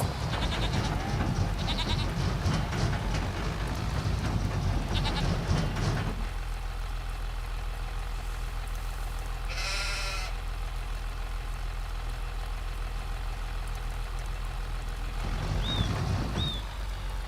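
Goat bleats in a farming video game, a few short bleats at the start, one in the middle and another near the end, heard over a steady low background hum with no talk.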